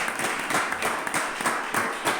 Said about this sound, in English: just a round of applause for giving us this space